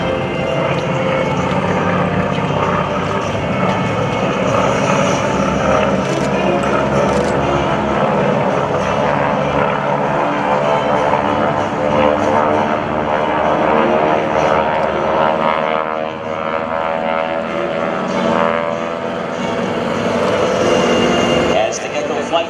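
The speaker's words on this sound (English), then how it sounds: "The GEICO flight has rolled in now for a very high angle strafe." GEICO Skytypers propeller planes dive in a high-angle strafe pass at an airshow, their engines roaring loud and sustained with rising and falling tone, while an announcer talks over the noise.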